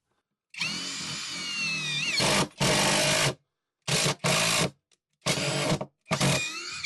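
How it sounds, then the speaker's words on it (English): Greenworks 24V cordless drill driving a screw into wood, with loud close-up whirring bursts: one long run, then several shorter stop-start pulses separated by silence. "Let's go ahead and try a screw."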